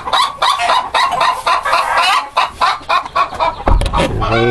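A dark miner blue hen cackles loudly and repeatedly after laying an egg, a continuous run of sharp, rhythmic clucks close by with no talking.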